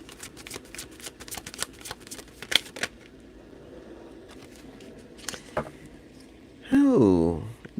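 A deck of tarot cards being shuffled by hand, a quick run of crisp riffles and taps close up, followed by a brief voice at the end.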